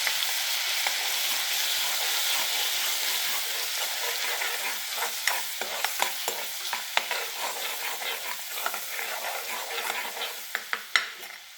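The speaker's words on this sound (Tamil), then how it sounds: "எண்ணெய் சூடேறிச்சு இஞ்சி பூண்டு இதில் பச்சை வாசனை கூட வதக்கணும்" Ginger and garlic sautéing in hot oil for channa masala: a loud, steady sizzle and crackle with repeated scraping stirs that grow more frequent, and no talking.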